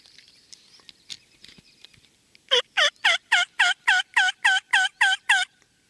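A wild turkey gobbles in a fast, rhythmic string of about eleven loud, rattling bursts after a quiet stretch of faint background sounds.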